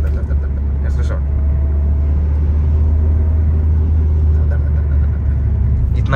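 A car drives with a steady, loud low engine and road rumble that holds evenly throughout, and any braking is not clearly set apart from the drone.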